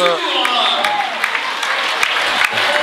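A standing crowd applauds the first try in a rugby final between Tours and Béziers, sustained dense clapping with occasional sharp peaks, commentators talking over it.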